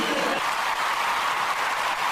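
Audience applause, a brief dense burst of clapping that holds steady throughout.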